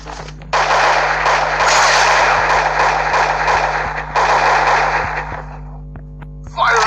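Two long, loud crackling blasts of Minecraft explosions roar one after the other, dense and rumbling, over a low steady hum, then stop abruptly.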